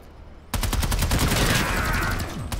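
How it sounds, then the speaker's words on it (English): Rapid bursts of automatic gunfire in the sci-fi shooter Planetside, dense overlapping shots starting abruptly and rattling on continuously at close range. "Someone's shooting!"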